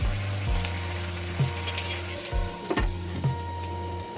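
Carrots and broccoli stems cook in a covered pan, a steady sizzle with a few soft knocks of pan or lid, close and without voices.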